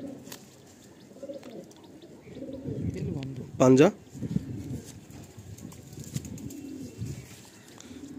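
An Andhra pigeon, held in the hand, gives soft cooing mostly beneath a man's nearby speech, with one brief, clearer call partway through.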